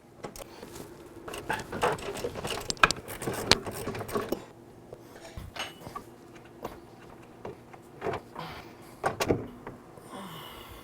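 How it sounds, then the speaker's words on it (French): A ratchet with a 15 mm socket clicks and ticks in quick close bursts, working loose the top suspension bolt on a 2020 Can-Am Spyder RT Limited, with metallic clinks and short pauses between runs. "il va falloir utiliser notre ratchet et notre clé 15 mm"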